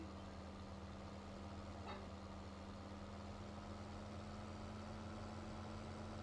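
A big tractor in Farming Simulator 17 idles with a steady, even low hum and rumble that holds at constant loudness throughout, with no talking.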